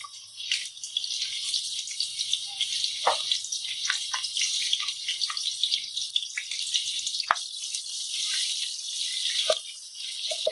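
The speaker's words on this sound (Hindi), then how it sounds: "प्याज फ्राई हो रही है" A small onion sizzles in about a quarter cup of oil, a steady bright hiss of frying with scattered pops and crackles throughout, no voices.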